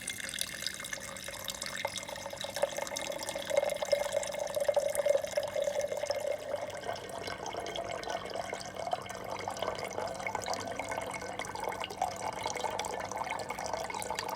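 Water runs steadily from a groundwater flow apparatus into a 500 ml measuring container, giving a continuous faint trickling and splashing with no talk.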